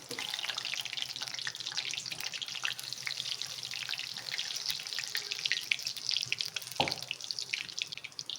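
Water poured from a tap in a home kitchen while capsicum bhajji batter is being made, a steady thin stream running for several seconds at moderate closeness, with a brief clink near the end.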